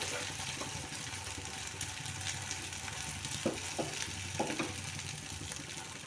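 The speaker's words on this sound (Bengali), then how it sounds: "এর মধ্যে আমি এই ডিমের মিশ্রণটা দিয়ে দিচ্ছি অর্ধেকটা।" Beaten egg mixture poured into hot oil in a pan sizzles and fries with a steady hiss, close and moderately loud, broken by a few sharp clicks and scrapes of a utensil partway through.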